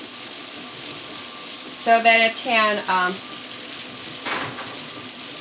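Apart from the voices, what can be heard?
water added onto felt on wet felting rolling machine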